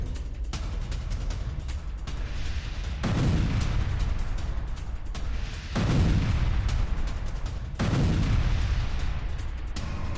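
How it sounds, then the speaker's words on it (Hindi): Artillery fire in wartime news footage: a series of heavy booms, roughly three strong blasts spaced a few seconds apart, each with a rumbling tail over a constant noisy background, no speech. "रूसी आर्टिलरी यूनिट पर यूक्रेन का अटैक, यूक्रेन का रूसी आर्टिलरी यूनिट पर अटैक।"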